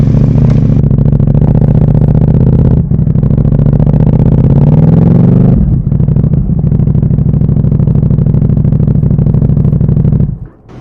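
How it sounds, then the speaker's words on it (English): A keyless-ignition motorcycle engine cranks and fires, then runs at a loud, close, steady idle with a brief rise in revs partway through before dropping back and cutting out at the end. "start up the bike."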